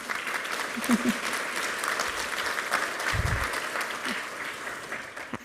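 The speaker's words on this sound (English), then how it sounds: "So round of applause for being a veteran." Audience applause at a technology center awards ceremony honoring a veteran, a full, steady burst of clapping from a crowd with faint murmurs and a few louder claps within it.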